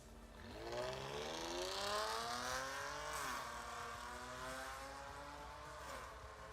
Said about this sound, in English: So this is a Pentastar with the Borla attack exhaust.